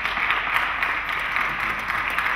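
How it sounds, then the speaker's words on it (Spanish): Steady wash of audience applause for a prize winner at a talk, a dense even roar of many hands held at a constant level with no voices over it. "Pues Ángel Capel, por favor, un aplauso."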